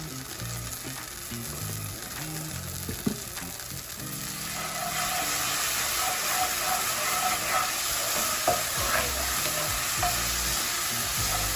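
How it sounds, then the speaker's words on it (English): A tablespoon of garlic drops into hot oil and starts frying, a steady close sizzle that swells suddenly partway through, with faint clicks and stirring scrapes. "so that oil should be just about hot. We're going to use about a tablespoon of garlic."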